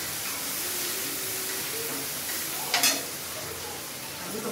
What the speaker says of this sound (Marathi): आणि टमॅटो पण छान भाजून घेते तेलामध्ये।